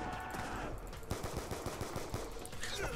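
Rapid bursts of automatic gunfire from Call of Duty: Black Ops 2 Zombies rattle in close, loud volleys, with game sounds between them.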